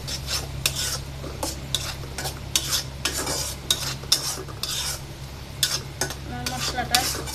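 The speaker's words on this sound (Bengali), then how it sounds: "সবগুলো মশলা একসাথে আগে ভেজে নেব" Spice mix for egg korma frying in a pan, with a spoon stirring and scraping in steady rhythmic strokes over a low, constant sizzle, close up.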